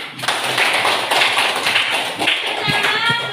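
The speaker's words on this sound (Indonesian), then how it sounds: "tepuk tangan." Children in a classroom applaud together during a Catholic religious education lesson, a dense, steady burst of many hands clapping at once, with a few sharper individual taps near the end.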